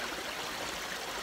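A small creek along the Rogue River Trail near Grants Pass, Oregon flows in a steady, broad rush of running water, close and continuous with no voices.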